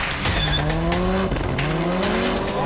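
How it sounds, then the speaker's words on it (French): Race car drifting through exaggerated slides at a motorsport festival in Lohéac, with an engine rising and falling through gear changes and tire squeal, loud and close throughout. "pour le spectacle et les dérives exagérées, il faut compter sur Liam Doran"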